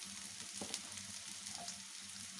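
Chilli powder and coriander powder fry in a pan for a brinjal curry, making a faint, even sizzle with light crackles over a brief stretch.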